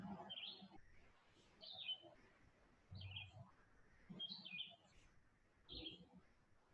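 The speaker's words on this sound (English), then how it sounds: "Maybe you hear the birds in the background" Outdoor birds sing in the morning. Short, high, bright phrases repeat roughly every second or so, faint and a little distant over soft background noise.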